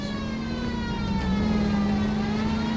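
A police siren wails steadily over a revving car engine in a 1940s Los Angeles car chase in the video game LA Noire, loud and continuous throughout with no talk.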